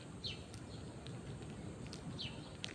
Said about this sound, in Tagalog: Nasaan yung nag-iingay na ibon?